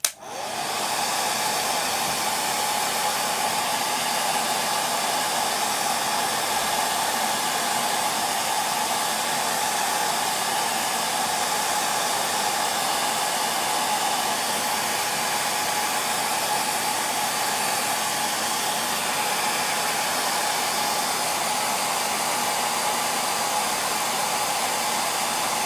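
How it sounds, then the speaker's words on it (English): A hairdryer blows steadily at close range for the whole stretch, drying freshly painted wall of a model French chateau outbuilding; one unbroken, loud whirring rush with no talk. "So I'm just going to use the hairdryer a second."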